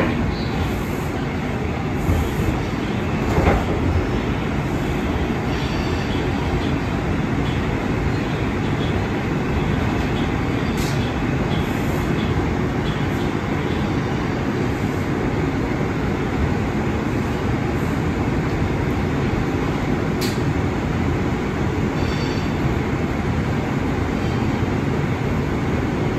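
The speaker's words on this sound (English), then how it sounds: "This is a Manhattan-bound 4 train." Steady, loud rumble of an R142 4 train on the New York City subway rolling along the tracks, continuous with faint squeals and clatter, no talking.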